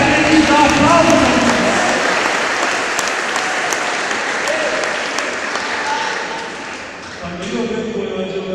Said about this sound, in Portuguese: você acredita, dá aplauso.